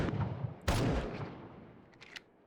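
A single sharp gunshot rings out in a zombie video game, hitting the undead. It is loud and sudden against a low rumble, then fades, followed by a few faint clicks.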